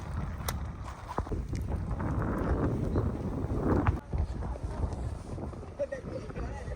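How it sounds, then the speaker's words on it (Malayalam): Cold wind blows across a steep hilltop, a continuous rumbling gust that buffets the microphone, with a voice occasionally heard beneath it. "നല്ല തണുത്ത കാറ്റ് അടിപൊളി"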